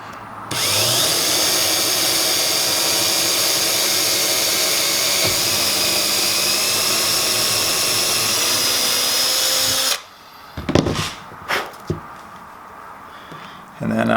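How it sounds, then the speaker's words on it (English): A power drill bores a pilot hole for a Hurricane hinge on a teardrop camper build, whining loudly and steadily for about ten seconds, then cuts off into a few brief handling knocks and clatters. "I'm going to drill a pilot hole"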